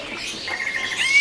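A caged rempetuk laut bird at a busy animal market gives a brief, bright call, a thin high chirp rising over faint background bustle.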